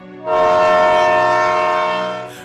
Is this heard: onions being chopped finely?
no